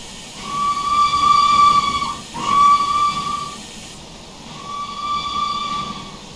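Steam locomotive whistle in Train Simulator Classic on the Stainmore, Shap and Eden Valley route, sounding as a long steady toot, a short break, another blast, and a final shorter one, loud and alone over a low hiss.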